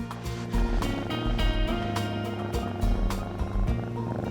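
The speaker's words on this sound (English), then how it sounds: "Did you hear anything under all that purring?" Cat purring loudly and close during a vet's health check, a continuous rhythmic rumble with regular breathing pulses, alone without talk.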